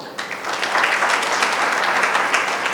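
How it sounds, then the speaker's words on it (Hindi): A church congregation claps for themselves during a sermon, a loud, sustained burst of crowd applause that swells quickly and holds steady. "अपने लिए ताली बजाओ"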